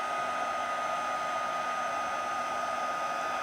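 A heat tool blows hot air over gold embossing powder on a handmade Christmas card, giving a steady, even hiss with no talk.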